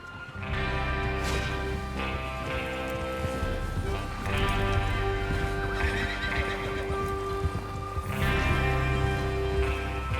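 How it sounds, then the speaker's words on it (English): Horses whinny and neigh over steady clip-clop hooves in Red Dead Redemption 2, with a constant low rumble of movement underneath throughout. "Get your horses ready"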